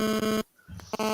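A phone sounding near a microphone, a loud harmonic electronic tone cutting off briefly and then returning, close and clear with no voices over it.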